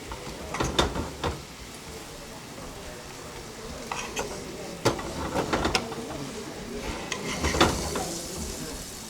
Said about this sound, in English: You need to let the arbi coat with the masala and maybe you can cover it and cook it